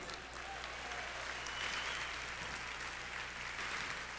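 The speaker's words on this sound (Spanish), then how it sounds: "Dele un aplauso." Congregation applause during a church sermon on apostolic ministry, a soft, distant, steady wash of clapping with a low hum underneath, lasting throughout.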